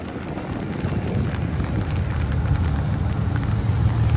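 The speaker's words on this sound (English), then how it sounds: "Again, the rain is coming down." Steady rain coming down outdoors at a spring hot rod show in Pigeon Forge, Tennessee, a constant broadband patter and hiss with no pauses and no voices.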